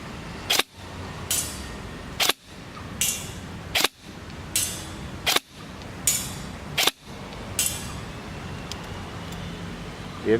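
Airsoft rifle with a modified DTW T-hop and HS+ barrel firing 0.4 g BBs at a 40 m outdoor target: seven sharp, evenly spaced single cracks over a steady wind-and-traffic hiss, each loud and close.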